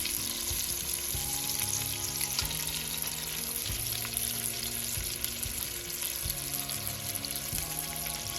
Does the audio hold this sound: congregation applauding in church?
no